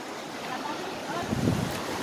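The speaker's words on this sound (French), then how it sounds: "Il y a des grosses vagues." Big ocean waves driven by wind on a Seychelles shore, a broad rushing wash with wind buffeting the microphone and a brief louder surge near the end.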